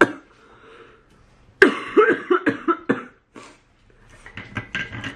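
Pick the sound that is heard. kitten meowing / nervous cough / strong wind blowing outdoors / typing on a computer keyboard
nervous cough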